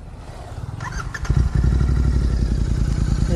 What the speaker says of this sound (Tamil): இப்போ நம்ம இந்த வண்டியை ஒரு எக்ஸாஸ்ட் நோட் தான் பார்க்க போகிறோம்.